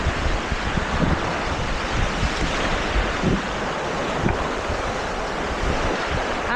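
Rushing river water during a rafting descent, a broad continuous roar with wind buffeting the microphone, loud and unbroken throughout.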